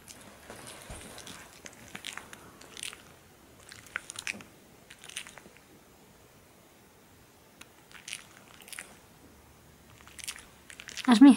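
A dog bites and chews a chicken strip treat in crunchy, wet bursts separated by quiet gaps, close up, with people talking at times.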